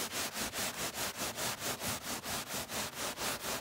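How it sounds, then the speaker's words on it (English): Stain remover being rubbed into hallway carpet with quick, even back-and-forth strokes, about four per second, a steady close scrubbing rasp with no voices. "So I guess I'll give it some rubbing."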